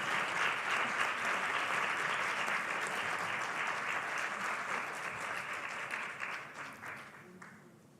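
An audience gives Carla González a long round of applause at a solidarity event, a dense, even mass of clapping that holds steady and then thins out and fades at the end.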